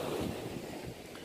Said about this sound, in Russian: сзади меня море находится